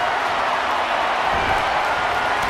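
Arena crowd in WWE 2K23 during a Friday Night SmackDown wrestling match: a steady, loud wash of cheering and crowd roar with no breaks, alone.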